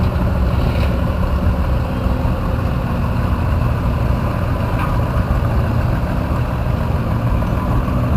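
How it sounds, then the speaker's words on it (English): A Massey Harris Pony tractor engine runs at a hometown show, a steady low rumbling drone that stays even throughout with no talk over it. "Next up, we have a Massey Harris Pony, driven by David Miller."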